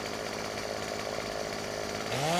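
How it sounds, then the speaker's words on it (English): An old McCulloch chainsaw in the video game Farming Simulator 15 drones loudly and continuously, the engine revving higher near the end. "The old McCulloch chainsaw."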